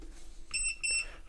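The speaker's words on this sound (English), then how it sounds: "and we get the double beep" A Twomikio solder fume extractor powers on with a double beep: two short, bright electronic tones in quick succession over a low background hum.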